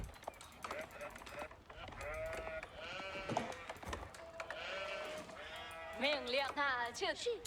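Several sheep bleat in quick succession in the video game Age of Empires IV, wavering cries layered over a steady low hum, with a few overlapping calls toward the end.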